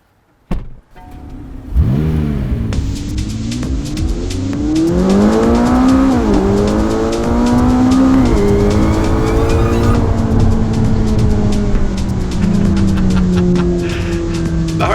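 A McLaren 570S mid-engine supercar starts up and pulls away on a public road, its engine rising loudly through repeated upshifts and then settling into a steady drone as the car cruises.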